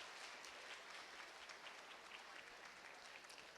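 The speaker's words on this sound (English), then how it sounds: "Yeah, we can clap for that." Audience applause at a school community meeting, a faint, distant, even patter of many hands sustained throughout without a break.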